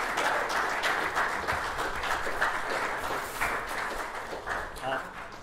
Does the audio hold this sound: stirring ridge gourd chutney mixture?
no